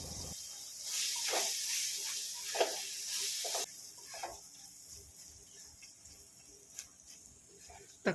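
Chopped tomatoes hit a hot pan for Kerala-style crab curry with roasted coconut, giving a broad steady sizzle that swells loud for a few seconds, then settles into a quieter hiss with light scraping and stirring.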